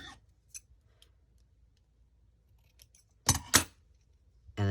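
Scissors snip through sewing thread during junk journal crafting, two quick close metallic cuts after a few faint clicks in an otherwise quiet room.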